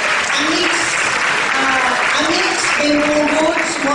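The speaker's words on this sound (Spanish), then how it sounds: "Moltíssimes gràcies i un aplaudiment." Audience applause at a public talk with Juan José Ibarretxe, a dense, continuous crowd clapping at close range with voices mixed in throughout.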